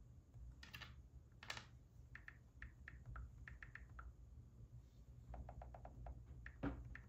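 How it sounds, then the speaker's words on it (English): Quick clicks of keys being typed on a computer keyboard come in short bursts and pauses, fairly close and fairly quiet against a low background hum. "Can hear me typing."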